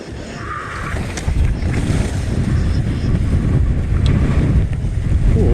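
Strong high wind roaring steadily across a Utah ski mountain during an approaching storm front, loud buffeting gusts hitting the microphone throughout with a low rumbling wash, no talking.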